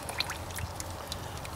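Engine oil trickles and drips out the bottom of a John Deere 2032R tractor during an oil change, a faint, steady pouring stream with a few scattered splashy drips.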